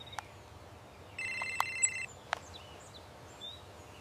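A telephone rings once in a brief, faint electronic trill against quiet room noise, with a few soft clicks around it.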